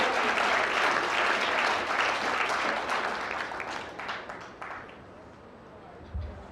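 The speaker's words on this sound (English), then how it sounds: "Give yourself a round of applause." Audience applause at a talk on transforming the Jamaican economy, a dense, steady wash of clapping that slowly thins out over several seconds, ending with a few scattered claps and a low bump near the close.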